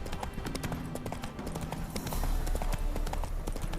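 In The Witcher 3, a horse's hooves clip-clop in a brisk, even rhythm on the ground, near and clear for the whole stretch, with no talking.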